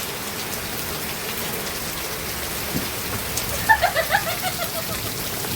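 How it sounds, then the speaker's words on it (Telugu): Heavy rain pours onto a thatched hut, a dense, steady close hiss filling the scene, with a brief cluster of bright chirping sounds partway through. "ఇంతలా పెద్ద వర్షం పడుతుంది"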